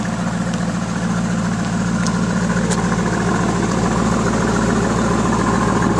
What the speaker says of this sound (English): Car has a custom exhaust.